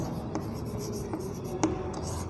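Chalk or marker writing the formula for a minus b squared on a board during a maths lesson, a steady faint scratching with a few sharper taps, alone without talk.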